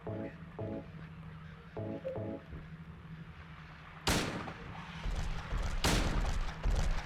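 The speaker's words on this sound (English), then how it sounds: "let's try the rifle" Rifle fire in the video game Silent Hill 2: two sudden, loud, sharp blasts, each with a short ringing tail, rise out of quieter in-game ambience and a repeating tonal pattern.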